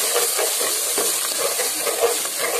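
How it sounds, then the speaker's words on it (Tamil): Onion and tomato paste sautéing in a pan for chicken pepper chukka, a steady close sizzle with soft stirring scrapes running throughout, no voices. "இந்த வெங்காயம் தக்காளி பேஸ்டே நல்லா வதக்கி கொடுத்துருங்க"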